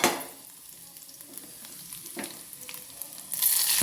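Dried red chillies and curry leaves crackle and sizzle in hot oil, a steady close hiss with scattered pops that swells louder near the end; no voices.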